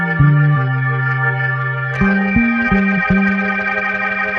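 Organ bass line with pitch-bend slides between notes, a sustained chord above, in a boom bap hip hop instrumental; loud and continuous, the low notes gliding up and down across the phrase.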